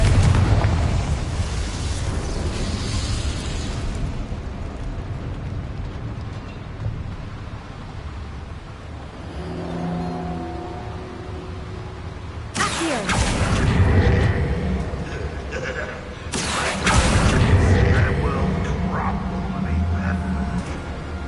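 Confringo spell explosions in the video game Hogwarts Legacy, loud fiery blasts around twelve and seventeen seconds with rumbling tails over a constant background roar, with a voice heard in places.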